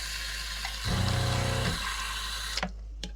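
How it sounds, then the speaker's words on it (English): Water runs from a household sink tap, a steady close rush that swells briefly louder and fuller partway through before settling, with a couple of faint knocks near the end. "Now if we come over to the sink here, we turn water on."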